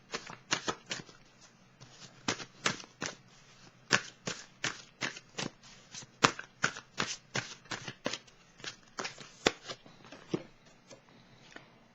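Tarot cards being shuffled up close, a rapid run of sharp riffling snaps and slaps in quick bursts that keep going without pause, with no voices.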